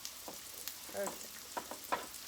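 Chopped onions fry in a pan, giving a quiet, steady sizzle with soft stirring scrapes and a few light clinks, no voices.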